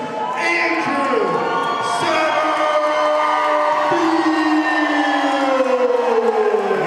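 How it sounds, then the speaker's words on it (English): Loud arena crowd cheering and whooping at a New Line Cagefighting event in West Virginia, a steady roar with shouts and whistles throughout, an announcer's voice carrying over the noise. "Hear that crowd cheering for the hometown guy, man."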